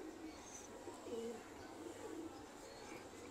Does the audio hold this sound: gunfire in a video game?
no